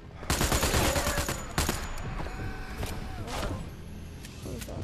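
Gunfire in a World War II video game, a dense volley of loud shots and cracks at the start, then scattered further shots over a continuous rumble.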